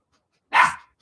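A single short, sharp dog bark rings out in a hallway, loud and isolated against silence.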